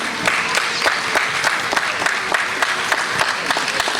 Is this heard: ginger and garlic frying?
no